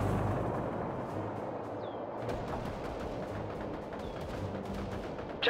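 Gunfire and explosions rumble across a World War II-era real-time strategy battlefield, a dense, continuous barrage of dull booms and crackles with no clear single shots standing out.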